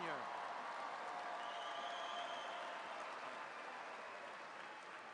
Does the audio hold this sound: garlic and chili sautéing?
no